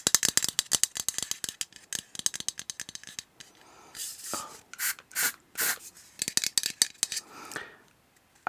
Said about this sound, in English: and the little leather zipper